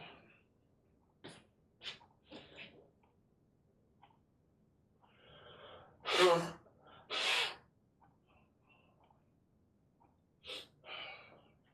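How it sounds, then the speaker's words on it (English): Two loud, bursty nose blows in the middle, surrounded by quieter scattered sniffs and breaths with a few short vocal sounds. "I gotta blow my nose."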